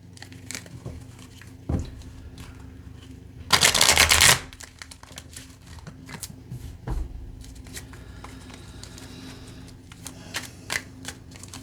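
Tarot cards are shuffled by hand at close range, a soft papery riffle with one brief louder burst of cards flicking and a few scattered taps, quiet throughout with no one talking.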